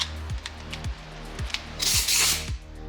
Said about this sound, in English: I just have this little polisher and I got some 800 grit, and we're just gonna kind of go to town on it here